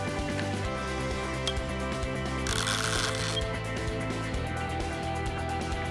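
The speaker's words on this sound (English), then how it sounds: "here we're printing a 4-line message in one pass" EBS260 Handjet portable inkjet printer printing a four-line message on pipe, a steady mechanical hum with small clicking wheels and a brief hissing burst in the middle.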